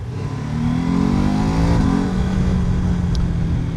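A 2026 BMW F 450 GS motorcycle accelerating, its engine note climbing steadily in pitch as it revs up, loud and close, then easing off slightly after a gear change.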